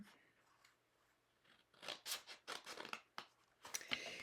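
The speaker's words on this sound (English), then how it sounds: "let me just make a little cut here" Scissors making a small snip into card stock for a handmade card, a burst of close, crisp cutting and crunching strokes after a quiet start.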